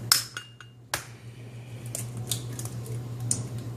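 Two large eggs are cracked against a bowl of cream cheese and sugar: a couple of sharp, close taps and cracks followed by soft wet rustling and faint clinks.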